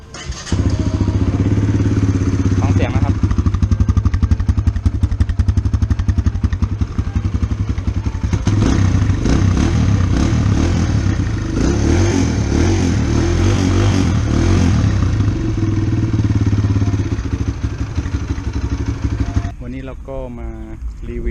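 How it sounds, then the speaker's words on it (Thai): A 2022 Kawasaki KLX140RF dirt bike is push-button started and settles into a loud, steady close-up single-cylinder idle with mechanical clatter, running throughout before cutting off near the end. "เสียงเครื่องยนต์ก่อนนะครับ ใหม่ ๆ รุ่นนี้จะไม่มี มีไม้นะครับไม่มีหน้าจอ กดสตาร์ทนะครับ แล้วก็สตาร์ทเลยครับ"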